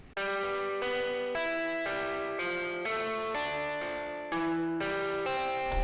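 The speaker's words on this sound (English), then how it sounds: "I've also got a distorted version of the same sample," A distorted sampled Jazzmaster guitar in Ableton Live plays a slow run of strong, ringing notes, each struck and left to sustain, about eight in six seconds, alone with no voices.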